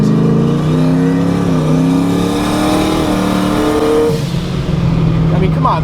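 A turbocharged manual car pulls hard from first through third gear, the engine note climbing loudly and steadily, dipping briefly at each quick shift before rising again.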